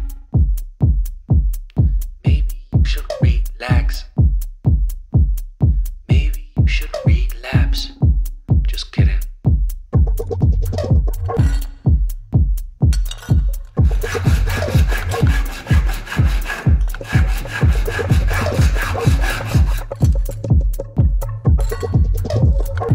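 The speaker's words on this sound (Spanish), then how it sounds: "Comenzamos con una lima de grano grueso. Vamos a repetir este paso de los dos lados de la cadena." A coarse-grit file is drawn back and forth along a handmade silver chain in quick, regular strokes that repeat steadily, with a denser, continuous rasping passage in the second half.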